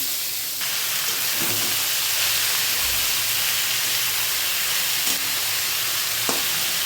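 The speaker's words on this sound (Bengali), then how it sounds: "এবার একটু সাদা জিরে আর দুটো তেজপাতা এবার লাউগুলো দিয়ে দিচ্ছি" Bottle gourd pieces go into a hot pan with cumin seeds and bay leaves for a hilsa-head gourd dish, giving a steady, close sizzle and frying hiss with a few soft stirring knocks throughout.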